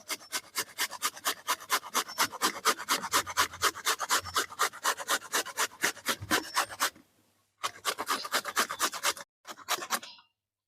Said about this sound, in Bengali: এই স্বর্ণ পাটিসাপটার জন্য আমার এই বিটের দরকার হবে, তার জন্য আমি গ্রেট করে নিচ্ছি।